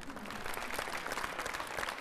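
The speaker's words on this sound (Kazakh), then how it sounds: "Шапалақтарыңыз." Studio audience applauding a Kazakh band on a television entertainment show, a dense, steady wash of clapping that holds at an even level for about two seconds with no voices over it.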